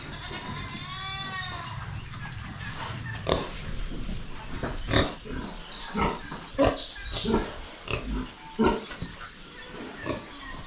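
Farm pigs grunt and squeal in irregular bursts near the listener. A bleating call rises out of the steady background murmur and hum of the farm.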